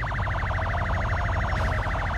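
Police car siren in an online lowered-car game chase, a rapid warbling wail that stays loud and continuous over a low engine rumble.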